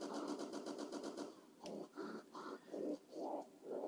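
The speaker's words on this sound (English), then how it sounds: "This is the Cobra pack-a-punched Python, fully automatic, with double tap 2." Fully automatic Cobra pack-a-punched Python pistol in a video game firing a fast rattling burst of rapid shots, followed by several separate heavier thumps spaced apart, all fairly faint.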